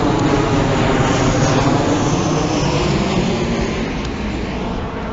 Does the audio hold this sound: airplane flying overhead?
yes